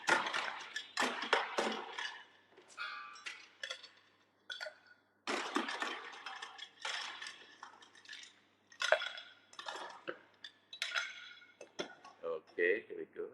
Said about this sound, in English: Because we're gonna put ice in it.